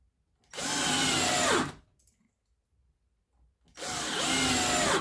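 A nine-year-old cordless drill driver whirs loudly at steady speed for about a second, falls silent, then starts again at the end, heard up close.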